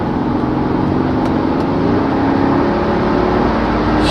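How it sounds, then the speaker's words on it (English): A 2013 Mercedes S63 AMG W221 with the performance pack accelerates hard, its engine a loud, steady, rising roar heard from inside the car, with no talk. "If I look, how nice this car accelerates"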